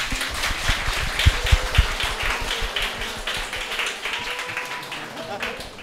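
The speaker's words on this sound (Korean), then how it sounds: "박수 한번 치고 갈까요?" A studio audience at a live public radio broadcast claps, with a burst of sharp, close hand claps early on that thins out while people talk and laugh over it.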